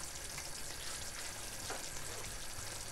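Coconut oil and fresh curry leaves hitting a Kottayam-style fish curry, a dense, steady sizzle and crackle of hot oil, loud and close, running evenly with no voices.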